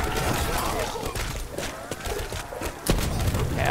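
Grenade blasts in the video game Call of Duty Black Ops 4 arrive as dense, loud booms amid constant battle noise, with one sharp hit near the end.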